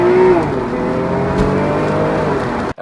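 A 2012 Porsche 911 GTS engine running and pulling from inside the car, a loud tonal drone that rises briefly and settles, then cuts off sharply at the end.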